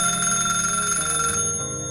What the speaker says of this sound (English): One night the phone rang.